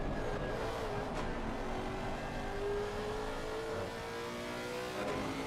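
A GT3 race car accelerating hard out of a corner at the Nürburgring in a racing video game, its engine droning steadily with a rising pitch, loud and continuous throughout.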